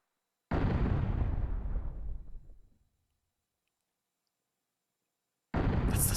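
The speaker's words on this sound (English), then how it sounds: "That's the sound of something hitting the wall from outside." In the Legend of Legaia video game, a heavy boom sounds as something strikes the village wall from outside, a loud crash fading over about two seconds, followed by silence and then the start of another impact.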